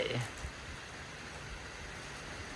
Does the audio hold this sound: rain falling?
yes